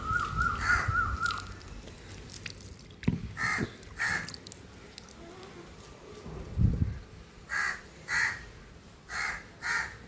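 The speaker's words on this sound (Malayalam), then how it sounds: "വാ, കാക്കയ്ക്ക് വെള്ളം വയ്ക്കാം" Crows caw in a series of short, harsh calls, some close and loud, others spaced out in a rhythmic run toward the end, with insect buzzing and faint background noise between them.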